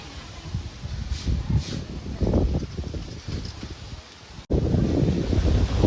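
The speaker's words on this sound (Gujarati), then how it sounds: "વાવાઝોડું પૂરું શરૂ થઈ ગયું" Strong wind buffets the microphone in heavy, roaring gusts that surge and fade, and a sharp break comes partway through.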